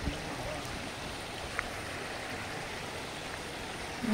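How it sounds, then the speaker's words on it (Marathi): A forest stream near a fort at Mangad in the rainy season, heard as a soft, continuous watery rush that stays even and fairly distant throughout, with no voices. "सो थोडं शांत राहिलं ना पूर्ण त्या झऱ्याचा आवाज ऐकायला येतो."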